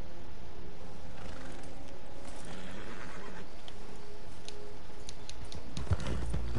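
A horse in Red Dead Redemption 2 against steady game ambience, with soft scattered ticks like hooves and a louder low snort or whinny near the end.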